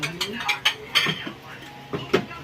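Plates and dishes clatter as one is taken from a stack in a home kitchen while cooking dried anchovies: several sharp ceramic clinks and knocks in an irregular rhythm, close and moderately loud.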